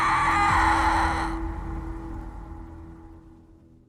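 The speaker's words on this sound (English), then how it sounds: "began with a terrifying, blood-curdling scream" A terrifying, blood-curdling scream at a house in Napa Valley, a loud shrill cry that cuts off after about a second and a half, leaving a fading, low rumbling tail.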